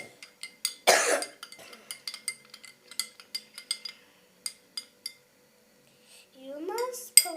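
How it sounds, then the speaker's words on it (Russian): A single harsh cough from an adult indoors, surrounded by the light clinks of a small spoon stirring a home remedy in a cup, with a brief murmur of speech near the end. "Я вот кашляю."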